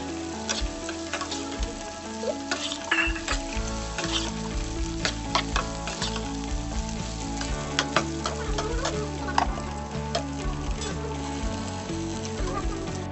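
Cauliflower and onions sizzle and fry in a pan, a continuous crackling hiss with intermittent stirring scrapes, close up, alongside a faint background hum and no talk.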